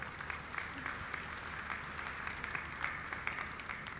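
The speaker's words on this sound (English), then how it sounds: "Give a big round of applause to all of them." An audience at a university convocation gives a long, steady round of applause, a dense wash of many hands clapping at even loudness throughout with no talk.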